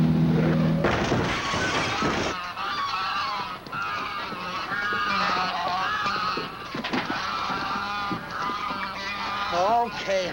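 A flock of ten geese in a 1941 film scene, honking loudly and continuously at close range in overlapping calls, with a brief deeper sound at the start and faint voices mixed in.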